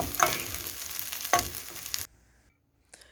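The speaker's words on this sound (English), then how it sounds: "that's when we're going to add our rice and ensure that it's well covered with the saffron color" Rice is sauteed with saffron-coloured ingredients in a pan, a close sizzle with stirring strokes that stops abruptly, then near silence and a brief clatter.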